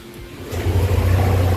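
Motorcycle engine catches and revs up into a steady, loud low idle drone, close by, with no talk over it.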